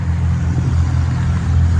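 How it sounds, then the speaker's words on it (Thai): A car passes on a nearby road, a loud, steady low rumble of engine and tyre noise that fills the whole moment without any voices. "ขอโทษเสียงรถ"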